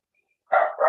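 A dog barks twice after a moment of silence, two loud, close barks in quick succession.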